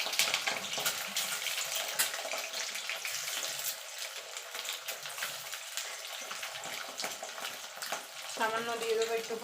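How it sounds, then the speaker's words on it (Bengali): Eggs fry in hot oil in a pan, giving a steady, fairly quiet crackling sizzle that lasts throughout. Spluttering grows busier near the end. "এবার ডিমগুলো ভেজে নেব।"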